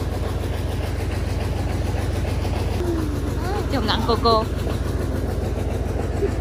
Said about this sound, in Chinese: 没，这拖拉机还好